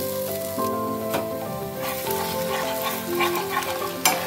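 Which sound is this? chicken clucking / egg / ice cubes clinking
egg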